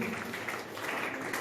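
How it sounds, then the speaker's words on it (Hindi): Audience applause welcoming a guest at a village panchayat Diwali gathering, a steady patter of many hands clapping, moderately loud and sustained across the stretch with no talk over it. "आपका भी तालियां बजाकर स्वागत कीजिए"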